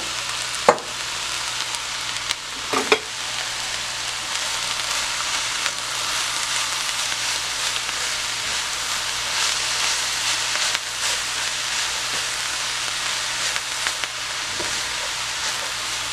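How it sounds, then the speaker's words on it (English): Mushrooms and a whole chopped onion fry in a tablespoon of oil in a large skillet, a steady close sizzle and hiss that runs evenly throughout, with a couple of brief clanks early on. "I've got a tablespoon of oil in my big skillet, and I'm going to add my mushrooms along with a whole chopped onion."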